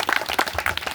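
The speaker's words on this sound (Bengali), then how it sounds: "সুতরাং ওদের জন্য একটা হাততালি।" A short, dense burst of clapping rises from a group cheering a kabaddi team at a results announcement, lasting only about a second.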